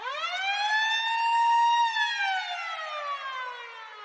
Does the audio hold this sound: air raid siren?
yes